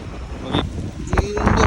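Gusty wind at a hill's foot in Wayanad buffeting the microphone on a bicycle ride in a short burst, rumbling and roaring with a brief whistle-like tone mixed in.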